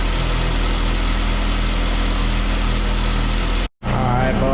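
A Saab 9-3 Convertible engine idling with a steady low rumble and hum, cutting out briefly near the end before resuming.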